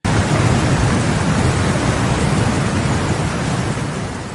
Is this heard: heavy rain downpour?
yes